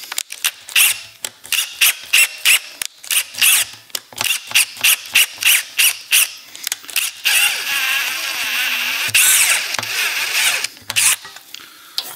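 A thread tap cuts a Helicoil thread into a widened hole on a VW Beetle engine, producing loud, close, rhythmic grinding strokes in quick repeated bursts, then a longer continuous stretch.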